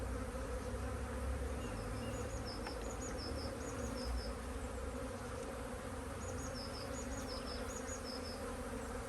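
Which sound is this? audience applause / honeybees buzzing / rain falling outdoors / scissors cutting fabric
honeybees buzzing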